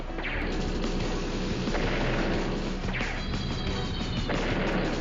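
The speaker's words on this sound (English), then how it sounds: "Bomber takes out the medium tank." A bomber strikes a medium tank in the Advance Wars video game, a dense burst of crashing, booming explosion effects with sweeping whooshes that fill the whole stretch at steady loudness.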